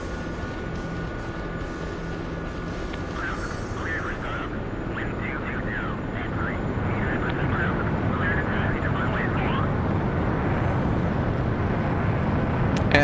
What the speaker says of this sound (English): starting our approach to Krimsk. We'll just land in the infield here.